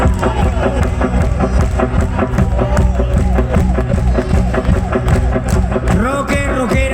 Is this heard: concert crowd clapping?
yes